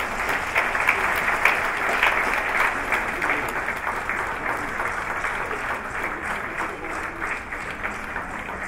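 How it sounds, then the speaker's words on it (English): Audience at an oil and gas industry conference in Nigeria claps in a sustained, fairly even round of applause lasting several seconds, moderately loud with a dense crowd texture. "one more time, round of applause for our Group Managing Director, Madam Mele Kyari"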